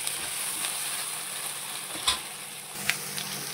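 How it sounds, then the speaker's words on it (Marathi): Onion and garlic fry in hot oil, giving a continuous close sizzle broken by two brief knocks of stirring, with no voices. "टाकून घेऊया कांदा, कांदा छान पैकी लाल करून घेऊया।"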